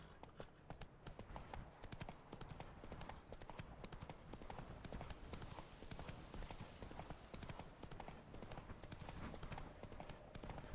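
Roach, the horse in The Witcher 3, clip-clops along in a steady, continuous stream of hoofbeats over ambient game sound.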